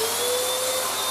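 A Beaumark BM222 V600 TinyTurbo handheld vacuum cleaner running with a hose attached, a loud, steady, close motor whine with a constant high tone and airy rush, uninterrupted and without talking.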